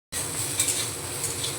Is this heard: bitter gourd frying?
yes